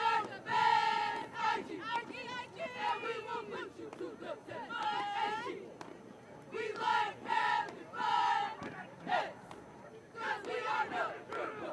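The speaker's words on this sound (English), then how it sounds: "Here's a good shot of the Heights cheerleaders right now as they're cheering in between this timeout right now." Wichita Heights high school cheerleaders shouting rhythmic chants in unison during a football timeout, repeated bursts of group yelling from the front rows, fairly distant and echoing with short pauses between calls.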